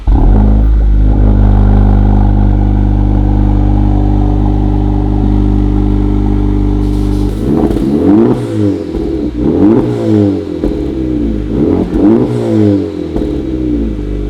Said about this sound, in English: Got the Type R exhaust system installed. Sounds pretty damn sweet.